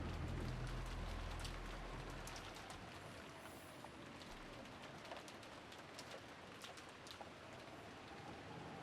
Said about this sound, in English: there was no reply, only the howl of the wind and rain